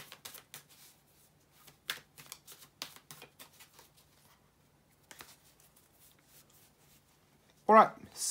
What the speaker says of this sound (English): shuffle the cards, and we can jump right into it.